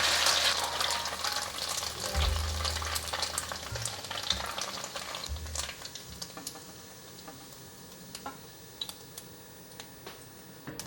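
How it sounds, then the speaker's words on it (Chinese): Beech mushrooms semi-deep-fry in hot oil in a pan, giving a steady close sizzle with crackles and a few low knocks of the pan early on, with no talking. "接着开火，放入鸿喜菇。 把鸿喜菇炒熟，用半煎炸的方式"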